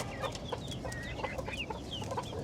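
Several farm chickens grazing on grass cluck softly and repeatedly at close range, with short chirpy calls over a low, constant outdoor background.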